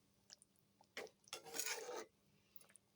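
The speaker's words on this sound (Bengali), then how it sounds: "আমি মাছটা একটু নেড়ে ঝোলের সাথে লেবুর রসটা মাছের সাথে মিশিয়ে দিচ্ছি।" A spoon stirs hilsa fish and lemon juice through curry in a pan, giving a few close scraping clinks around one second and a longer stirring scrape near the middle, then quiet with faint taps.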